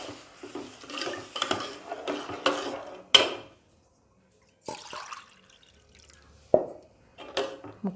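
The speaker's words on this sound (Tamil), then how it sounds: "ரவா தண்ணி ஊற்றுறோம்." Water splashes into rava semolina roasting in ghee with raisins, followed by scraping stirs of a spoon against the pan, coming in short bursts separated by pauses.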